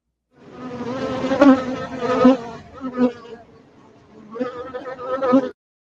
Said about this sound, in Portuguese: é som de mosca voando